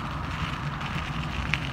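Idling trucks at the Prime Inc driver's lot give a steady low rumble with a broad, hissy wash over it, continuous and fairly even throughout with no voices.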